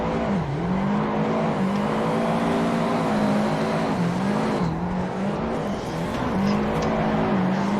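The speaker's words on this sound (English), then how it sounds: "we're going to engage a drift, use the left foot braking" A car drifting in Assetto Corsa with left-foot braking holds a loud, continuous engine drone whose pitch dips and climbs as the throttle shifts, with faint tire scrub beneath and no talking.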